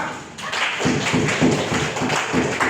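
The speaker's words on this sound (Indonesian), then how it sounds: "Kita beri aplaus kepada kelompok 2" Classroom applause for a student discussion group: a steady run of claps, roughly two per second, from a small group of people, fairly close and clear, with no talking over it.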